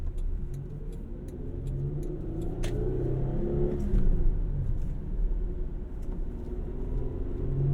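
A 2001 Toyota Camry V6 with a manual gearbox being driven and shifted, its engine a steady low rumble that swells briefly as it revs through a gear change, with no talk over it.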